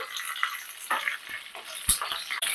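Green chilies and cumin frying in hot oil are stirred in a pan, giving a close, steady sizzle with scraping stirring strokes and a few light clinks, and no talking.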